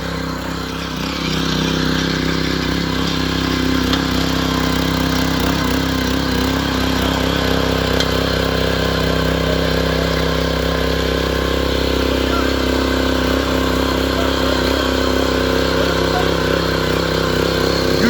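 A Bolat rotary tiller's engine runs steadily and loud for the whole stretch, a constant motorcycle-like drone with a low throbbing hum, while its tines sit still; a person speaks faintly over it.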